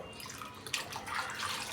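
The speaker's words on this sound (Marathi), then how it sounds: "तर हे गरम पाणी झालेलं टाकून देऊ." Hot water poured into a pressure-cooked village-style spicy mutton curry: a steady, continuous splashing pour at close range, no voices.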